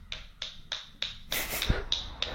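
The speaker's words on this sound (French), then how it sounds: "Chérie, tu es en train d'applaudir?" Hand claps by a woman on a phone call, six sharp claps in an even rhythm that grows slightly denser midway, close and fairly loud, with no talking.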